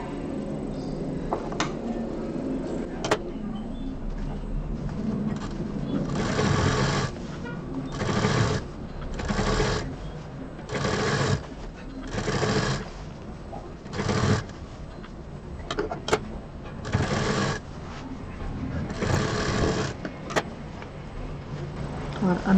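A sewing machine stitches piping onto the edge of a handmade printed fabric bag, running in repeated short bursts with brief pauses between them, close and clear, with a little background noise.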